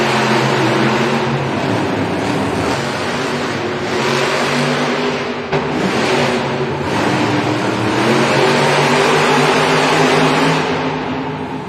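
Monster Jam monster truck engines roar together at the start of a race at an arena event in Rosemont, Illinois, a loud, sustained revving that rises and falls with steady crowd noise underneath for the whole stretch.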